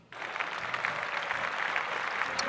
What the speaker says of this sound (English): So that's really clap it up for them.